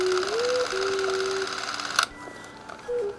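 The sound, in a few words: Bell & Howell T20 XL Super 8 camera running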